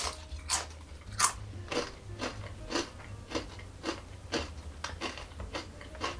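Crunchy Cape Cod kettle-cooked jalapeno potato chips are bitten and chewed up close, a series of about ten sharp, crisp crunches in a fairly regular rhythm with no talking.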